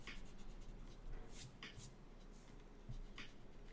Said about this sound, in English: You can grab your eraser and just start erasing the sketch lines you no longer need.